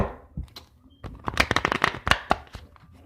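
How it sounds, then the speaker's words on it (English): Tarot cards being reshuffled by hand, a quick run of crisp riffling flutters and slaps in bursts, close up and fairly loud, with no talking. "let me go ahead and reshuffle these cards"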